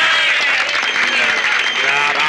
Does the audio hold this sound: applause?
yes